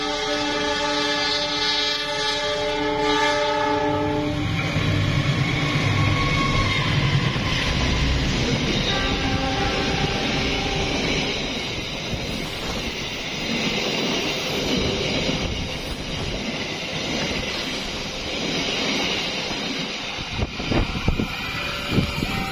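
A Pangandaran train passes on the southern line, a loud, sustained rumble of wheels and carriages with a horn blast early on and braking noise, heard nearby for a long stretch.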